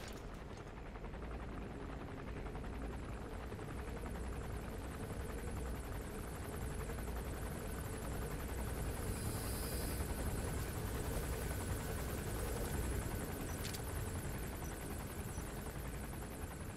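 A helicopter in the video game Metal Gear Solid V: The Phantom Pain drones steadily overhead with a constant rotor thrum and whine, holding an even level throughout, with no speech.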